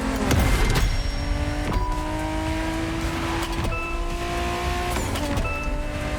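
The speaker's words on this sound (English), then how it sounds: "We have prepared a classic for you from a very famous German brand, the BMW Z4 M40i." A BMW Z4 M40i convertible drives past with a steady, loud engine note and rising and falling tonal whine, several gear-like pitch sweeps repeating over the road noise, with no talk.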